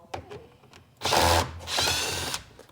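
Power tool whirring in two loud bursts while removing the steering column bolts of a car interior, following a few faint clicks, close by with no talk.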